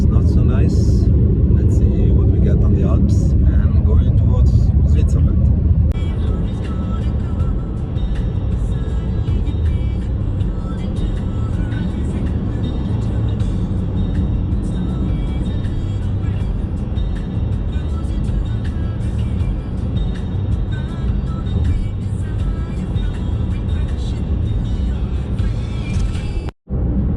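A car drives along an Italian highway toward the Alps and Switzerland, giving a steady loud road and engine rumble that fills the whole stretch, with a brief dropout near the end.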